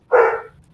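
A single short dog bark or yelp from a household dog, fairly loud and close, standing alone without talk.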